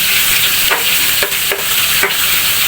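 Ginger being stirred into sinigang in a pot, a loud steady hiss with several sharp scraping knocks of a spoon against the pot.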